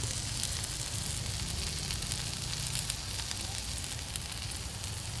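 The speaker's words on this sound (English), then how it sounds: "and now I'm cooking myself some burgers" Burgers sizzle on a camping stove beside a tent during a motorcycle camping trip in the Peak District, giving a steady, close, crackling hiss that runs unbroken throughout with no talking.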